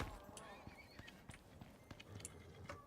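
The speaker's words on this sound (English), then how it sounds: "That's a zebra. I was like, wait, why do I hear you?" Zebra hoofbeats in the survival game Icarus: faint, irregular clip-clop thuds with a brief whinny-like cry, quiet and partly buried under a voice talking.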